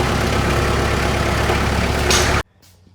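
A tractor engine runs loud and steady, a heavy low rumble, while a crane is raised for repair; it cuts off abruptly near the end, leaving quiet.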